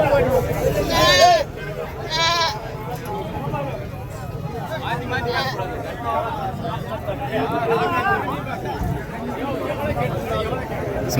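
Goats and sheep rams bleat at a busy livestock market ahead of Bakrid, with several close, wavering calls rising over a steady crowd babble while people talk nearby.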